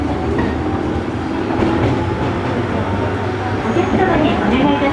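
Onboard a JR Kyushu 103 series 1500 train, motor car MoHa 103-1513, on the Chikuhi Line local to Karatsu, the MT55 traction motor roars loudly over continuous wheel and rail noise, a dense steady din close up.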